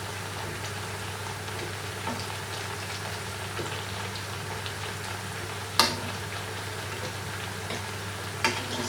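Ripe plantain slices fry steadily in hot oil, a soft continuous sizzle with a low steady hum beneath and a couple of sharp clinks as pieces are turned.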